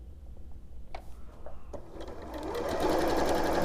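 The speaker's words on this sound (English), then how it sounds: "And we're just going to sew, and you can chain sew all these" A sewing machine chain sewing quilt pieces, a few soft clicks and handling taps before the motor whirs up into a steady fast mechanical hum, close and growing louder, no talking.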